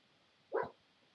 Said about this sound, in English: Our dog she's going woof, woof, woof, woof. She dreaming.